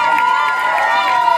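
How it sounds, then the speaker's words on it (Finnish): A large audience at a Finnish championship final applauds and cheers in a steady, dense wash of clapping and crowd noise, close and loud, with a voice speaking over it. "Annetaan vielä suuret aplodit näin."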